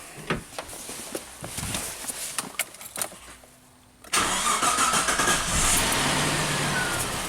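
A car engine is cranked and starts during a timing light check with an apparent misfire, a few close rattling clicks giving way to a sudden loud, steady running roar that holds to the end.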